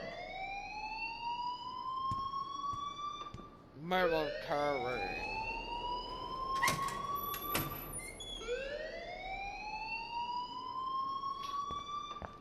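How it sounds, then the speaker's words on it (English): A loud electronic alarm rings in repeated rising sweeps throughout, with people talking over it. "please turn off that alarm since that's your job"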